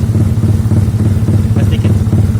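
A fuel-injected Yamaha Mio motorcycle engine runs steadily up close, a low constant drone with a slight lift in pitch near the end, as a voice speaks briefly over it.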